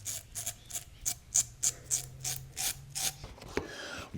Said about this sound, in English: The key is light pressure and make sure you have a good angle, about 30 to 45 degrees for the blade towards the skin.